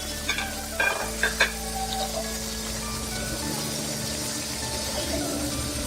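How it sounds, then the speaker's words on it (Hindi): Tomatoes with green and yellow bell peppers sauté together in a pan, a steady close sizzle with a few sharp stirring clatters early on, and no talking. "और ये सारी हमें एक साथ ही सौटे करनी है"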